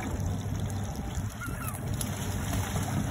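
A seagull beside an outboard-powered fishing boat off Seward, Alaska gives honking, squawking calls over the steady drone of the motor, close by and brief.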